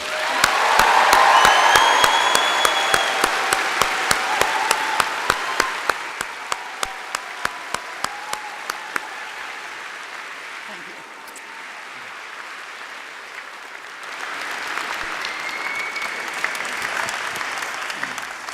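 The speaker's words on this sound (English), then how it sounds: "giving her yet another round of applause" Audience applause at a university graduation ceremony fills a large hall, loud and dense at first, then thinning into scattered claps before swelling again near the end, with faint murmuring in the crowd.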